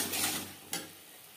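Garlic cloves drop into hot oil in a pan while an aar fish curry is being cooked, making a short, close sizzle with a brief stirring scrape and no talk.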